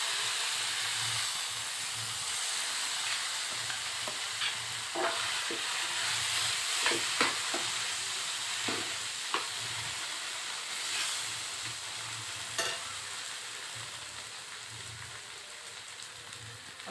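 Boiled eggs stirred into a ginger, garlic and dried chilli paste frying in a wok for dhaba-style egg tadka, giving a continuous hissing sizzle with scattered scrapes and clicks of a spatula against the pan.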